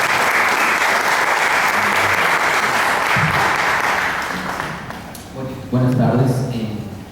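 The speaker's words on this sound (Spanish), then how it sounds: "Un aplauso, por favor." An audience at a lecture on city urbanization claps steadily and loudly for several seconds, then the applause thins and fades as a voice begins speaking over the last moments.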